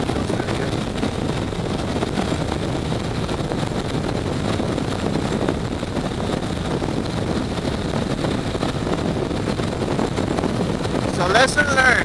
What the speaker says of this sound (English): Oh, that wind feels very good.